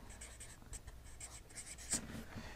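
Marker or chalk scratching out words on a board during a Bible lesson, a steady run of faint scraping strokes with one sharper squeak near the end, no speech over it.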